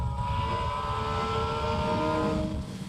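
A CFMOTO motorcycle engine drones steadily with a rising, whining pitch as it accelerates uphill in third gear, loud and close, dropping off slightly near the end.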